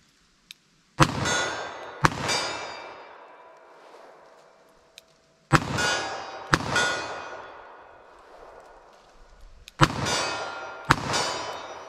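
Sig pistol firing three pairs of quick double taps at an outdoor range, each pair of loud sharp shots followed by a ringing decay, with pauses between pairs and faint handling clicks.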